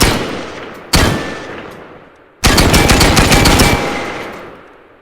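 Two bursts of full-auto gunfire from a weapon in the Tactical Assault video game, a short rattling burst followed by a longer sustained stream of rapid shots, loud and close, with no talking.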